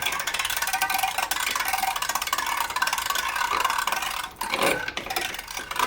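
A food mill's handle turns with a continuous mechanical rattling whir and steady ratcheting texture, fairly close, running without pause for several seconds with a brief dip near the end.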